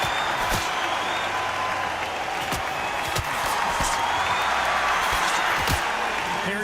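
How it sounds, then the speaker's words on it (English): An arena crowd in the boxing video game Undisputed roars and applauds steadily before a bout, a loud dense wash of cheering and clapping that never lets up. "The crowd here cannot wait. They've been buzzing all day long"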